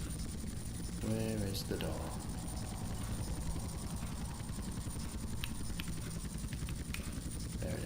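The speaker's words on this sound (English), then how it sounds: "Get your helicopter as close as you can to the door." A helicopter in GTA San Andreas drones steadily with a low rumbling rotor throb, continuous beneath a voice talking briefly.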